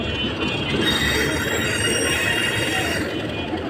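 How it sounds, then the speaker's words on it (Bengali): A train arrives at Rajbari station in Bangladesh, passing close by with loud sustained wheel squeal over a continuous rumble of rolling wheels on the rails, no talking. "এই টাইমের মধ্যে ট্রেনটি এসে পৌঁছাইল"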